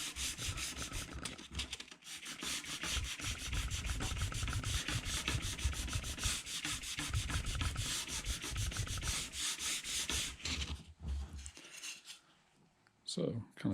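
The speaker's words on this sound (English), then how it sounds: "using a dowel rod here and some sandpaper to sand a round groove into this 1/4 inch soft balsa" Sandpaper wrapped around a dowel rod rubs a round groove into soft 1/4 inch balsa wood, a steady close scratchy sanding with a rapid back-and-forth rhythm that runs for about eleven seconds, then falls silent.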